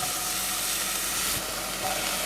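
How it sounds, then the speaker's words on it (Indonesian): Onion, garlic and ginger sauté in hot oil with a continuous close hissing sizzle and a faint stirring knock. "ini kita tumis biar harum ya, bawang bombay, bawang putih dan jahenya"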